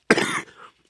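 A single harsh adult cough, loud and close, one strong burst that trails off quickly into a throaty rasp before silence.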